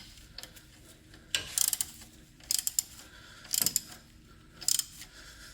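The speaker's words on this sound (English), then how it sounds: "And now I need to put that final torque on that nut." Ratchet clicking in short bursts while tightening a pulley nut on a Toyota Tacoma engine, four quick rattling strokes separated by pauses, close and clear.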